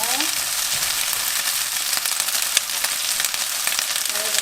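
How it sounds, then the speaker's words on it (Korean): Blanched garlic scapes sizzle and crackle in a hot pan, with steady frying hiss and occasional clicks of stirring. "살짝 볶아주시고."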